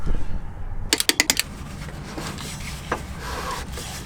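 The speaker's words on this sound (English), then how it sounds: "So we got a torque wrench hiding right there." A torque wrench tightens bolts on a first-generation Dodge Caravan, giving a quick run of about six sharp ratcheting clicks, then softer rubbing and handling noises nearby, with no talking.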